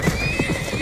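Frightened horses in a pen, hooves clattering on the ground under a loud, high sustained neigh, all close and brief.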